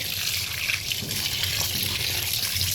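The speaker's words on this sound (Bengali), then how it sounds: "এখন এগুলো ধুয়ে নিব। ধুয়ে পরিষ্কার করে পুরো রান্নাটা দেখাবো আপনাদেরকে।" Cut beef pieces rinsed under running water, a continuous close splashing and gushing wash with no talk.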